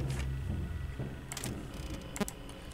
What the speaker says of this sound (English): That is the sound of him getting in the vent.